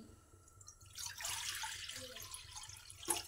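Water is poured into a kadhai for cooking makhana bhaji, a soft splashing rush that starts after a quiet moment and runs a couple of seconds, faint and close.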